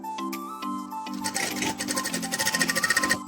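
Sewing machine stitching the elastic waistband of baby pants, starting with a few short hesitant bursts and then settling into a fast, steady, close-up rattle of needle strokes with no talk.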